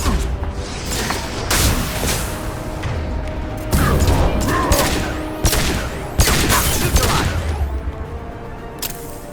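Heavy gunfire in Mass Effect 2 rattles in loud, dense volleys, sharp cracks and booming impacts hitting one after another with barely a pause.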